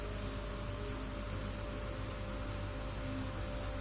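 Toxic rain falls in the No Man's Sky video game as a dense, steady hiss that stays constant throughout, with a faint low drone beneath and no voices.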